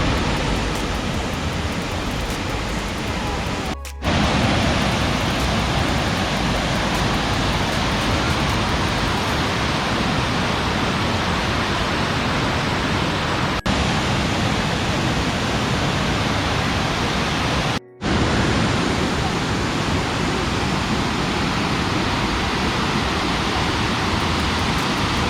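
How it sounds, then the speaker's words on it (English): Big Falls at Old Stone Fort State Park in Manchester, Tennessee, a waterfall cascading over rock, heard as a loud, steady broadband roar that fills the whole stretch without voices. "this right here is the top of Big Falls, so right over there you can also see the other part where it cascades down"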